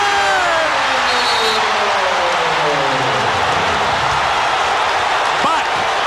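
A loud basketball arena crowd roars in a steady, dense wash of cheering after Michael Cooper's 18-foot game shot for the Lakers, with commentary talk running over it throughout.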